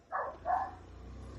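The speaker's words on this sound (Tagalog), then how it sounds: "Daming aso. Grupo-grupo." A few dogs bark on a street in Legazpi, two short, fairly close barks in quick succession, followed by another starting at the end.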